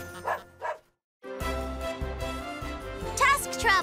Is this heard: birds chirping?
no